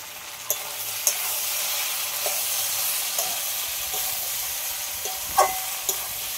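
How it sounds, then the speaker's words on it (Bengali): Young jackfruit and prawns stir-fried in a pan, with a steady soft sizzle and a few sharp scraping clinks of a spatula against the metal, no talking. "ঢাকা দিয়ে এইভাবে এঁচোড়টা ভালো করে কষিয়ে নেব"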